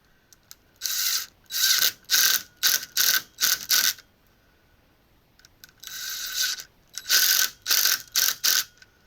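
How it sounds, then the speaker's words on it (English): A strap on a rubber flue pipe collar on a 90% furnace being ratcheted tight, two bursts of loud, rapid mechanical clicking strokes close up, with a pause between them and no talking. "See if we can slide the rubber collar down and tighten it back up again"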